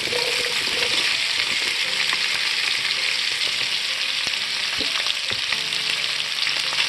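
Sausage and bell peppers sizzle loudly in a pan, a dense continuous frying hiss with occasional scraping knocks as the food is stirred, close and with no talking.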